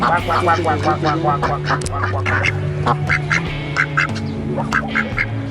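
Ducks quack loudly and repeatedly up close at the Island of the Dolls in Mexico, with a steady low hum running underneath the whole time.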